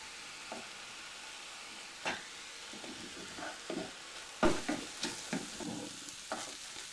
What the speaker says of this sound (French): vous faites revenir quelques minutes comme ça pour caraméliser donc votre viande